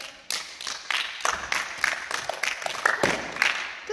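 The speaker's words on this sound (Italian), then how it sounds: "Che applauso" Clapping applause in a gymnastics gym, a run of fairly sharp irregular claps from a small group, close and moderately loud, with a little chatter mixed in.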